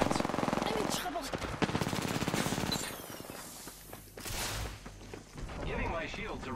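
Rapid automatic gunfire in the Apex Legends video game, dense bursts of shots close and loud, broken by brief pauses, with a voice talking over parts of it.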